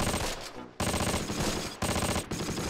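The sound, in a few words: MG42 machine gun fire in video game Close Combat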